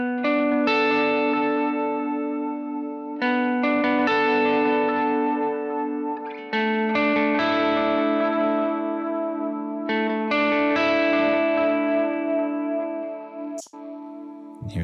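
Clean electric guitar chords ring out with a chiming, processed amp tone through a Strymon Iridium amp modeler on its Chime setting, struck repeatedly in sustained strums with light echo, played alone.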